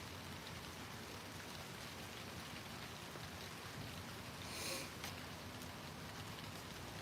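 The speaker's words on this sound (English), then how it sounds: "Oh, it started raining." Rain begins falling outside, a steady broadband patter and wash that stays even throughout, fairly soft and distant with no voices.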